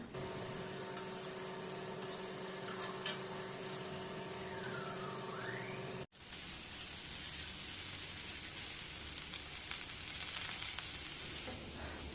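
Fish and crab masala fry in a pan with a steady, dense sizzle that runs throughout, broken by one brief cut partway through.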